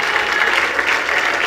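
Church congregation applauding during a Spanish-language sermon, a steady, dense burst of clapping that fills the whole moment with no voice on top.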